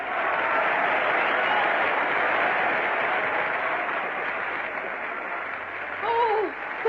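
A theatre audience applauds a stage performance with sustained, dense clapping that stays loud and steady before tapering slightly, and a brief voice cuts in near the end.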